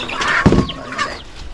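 A few short clucks from backyard chickens nearby during feeding, with a brief thump in the middle, all within a second or two.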